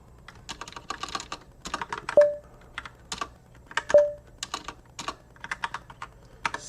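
Fingers type a password on a computer keyboard in quick irregular bursts of close, crisp keystrokes, with two sharper key hits standing out and no voice over them.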